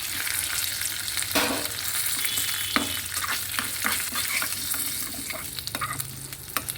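Curry leaves fry in a pan for peanut chutney, giving a steady close sizzle with bursts of crackle and a few spatula scrapes and stirs throughout, with no talking.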